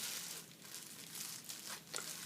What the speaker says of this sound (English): I put a plastic bag on like this